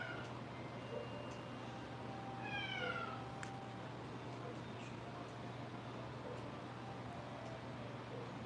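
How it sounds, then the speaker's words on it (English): Cat named Luna giving a single short meow partway through, faint against a constant low indoor hum, with no other sounds standing out. "What are you meowing about over there?"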